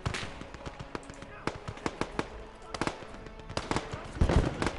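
Flak guns firing in the WWII strategy game Close Combat, a string of sharp irregular bangs and pops at moderate distance, some in quick clusters, with a voice speaking over the battle.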